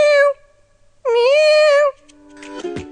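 A man imitates a cat, producing two drawn-out, nasal meow-like calls, the first short and the second longer, loud and close, followed by a quieter, lower voiced sound.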